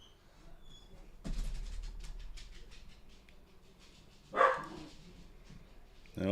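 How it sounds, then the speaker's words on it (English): A dog barks indoors, a couple of separate loud barks spaced a few seconds apart over a quiet room background. "Hold on, Max is going to bark."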